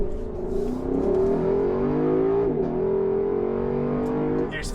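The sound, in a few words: Lexus LC500 Convertible accelerating as it pulls out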